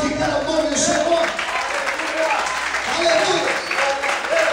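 A church congregation claps together in sustained, dense applause that fills the room evenly, with voices calling out over it.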